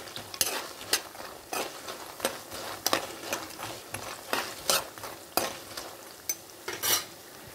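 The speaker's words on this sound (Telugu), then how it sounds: "చూసారా, కలర్ వచ్చేదాకా వేయించుకోవాలి." Food frying in a pan until browned, with a constant sizzle and frequent sharp clinks and scrapes of a utensil stirring against the pan.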